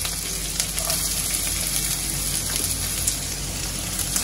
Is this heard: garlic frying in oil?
yes